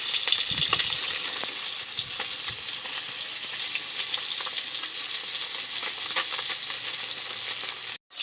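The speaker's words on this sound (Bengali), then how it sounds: "মাছগুলো খুব সুন্দর করে ভেজে নিয়েছি, তুলে নিচ্ছি।" Whole bhola fish frying in hot oil give off a steady, dense sizzle with faint crackles and spatters, loud and continuous throughout, ending abruptly.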